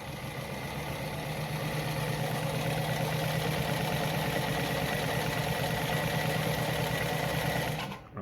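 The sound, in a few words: Lada model 233 sewing machine sewing a straight stitch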